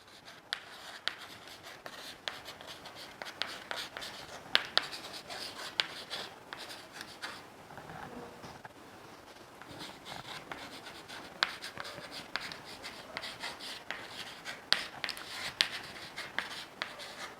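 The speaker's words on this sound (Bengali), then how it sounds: "আমি এই কথাটা এখানে লিখে দিচ্ছি" Steady chalk scratching and tapping on a board in a chemistry classroom, a continuous run of short strokes and clicks with sharper ticks throughout, close and fairly quiet, no talking.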